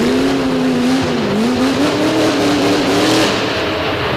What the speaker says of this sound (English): he is going to drag this heavy Ford around the track with a lot of horsepower under those front tires